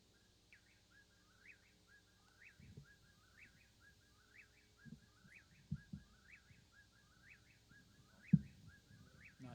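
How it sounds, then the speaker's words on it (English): A recorded nightjar (goatsucker) call plays at reduced volume during an indoor bird lecture: a faint, steady series of about ten evenly spaced whistled phrases, with soft room thumps and handling noise underneath. "This type of bird is sometimes called a nightjar or goat sucker."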